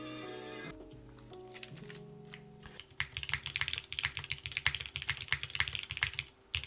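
Keys clatter on a Shelby65 mechanical keyboard fitted with a PE foam mod, a fast, dense run of close, crisp clacks after a few musical tones at the start.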